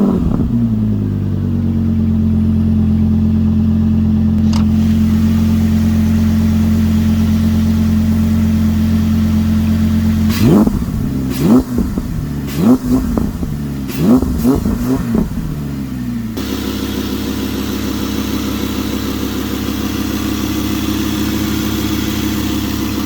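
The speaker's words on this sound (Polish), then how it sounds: "Fantastyczne uczucie budzić do życia ponad 5-litrowe V10." An Audi R8 Coupe's 5.2-litre V10 fires up and settles into a steady, loud idle, then revs sharply several times in quick blips before dropping back to a rough, deeper idle, close up.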